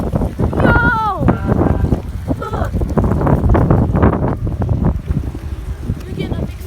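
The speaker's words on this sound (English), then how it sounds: "We're getting a mix of snow and wind right now." Loud, gusty wind buffeting the microphone outdoors during the first snowfall of winter in Southwick, Massachusetts, roaring steadily while people talk and shout.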